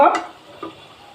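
Malabar spinach stems drop into spices frying in a pan and set off a sharp burst of sizzling as they are stirred, followed by a quieter, fading hiss.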